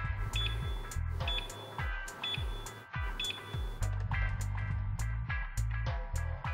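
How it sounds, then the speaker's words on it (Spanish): Repeated short electronic beeps from a laser hair removal device in quick bursts, loud and close, with pulsing tones recurring steadily throughout. "Escuchará una serie de pitidos que indican que el láser está funcionando."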